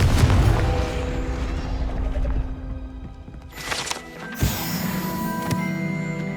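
Confringo blasting curse in the Hogwarts Legacy video game: a rumbling magical blast followed by a sharp explosive crack and crackling debris, loud and close amid game ambience.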